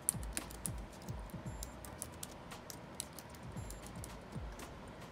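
Quick, light keystrokes tap on a computer keyboard in an irregular run of clicks, close and fairly quiet, with no voices.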